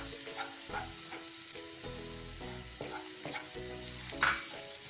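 Onions browning in oil with turmeric and chilli powder fry with a steady sizzle while a spoon scrapes and stirs in repeated strokes, with a sharper clink near the end, no voices.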